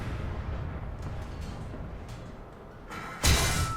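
A single tank cannon shot from an Ersatz M10 medium tank in War Thunder comes as one loud, sudden boom. A low engine rumble runs before it and after it.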